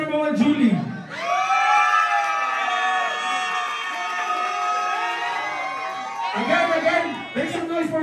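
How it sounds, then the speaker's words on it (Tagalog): A crowd at a contest cheers and whoops loudly for the first contestant in one sustained roar lasting several seconds, with shouts rising again near the end over a host's voice. "make some noise for contestant number 1, Julie"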